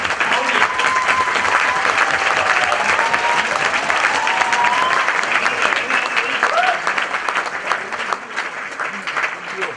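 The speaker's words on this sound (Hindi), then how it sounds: "एक बार खड़े होकर जोरदार तालियां बजाएंगे सर के लिए" Sustained loud applause from a large standing audience at a training session, dense clapping throughout with a few voices and whistles mixed in.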